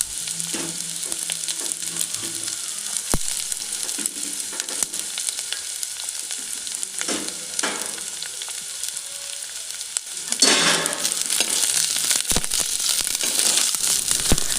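Green chillies and onion frying lightly in tempering oil with ginger for a fish curry give a steady close sizzle, with scattered stirring scrapes and clicks, then the hiss swells louder near the end; no voices.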